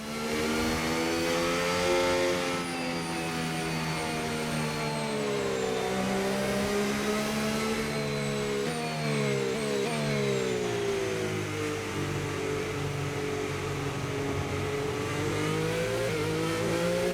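A Williams F1 race car engine in F1 25 at the Mexican Grand Prix practice: a loud, high-pitched, whining engine that rises and falls through gear changes and revs, continuous and close throughout.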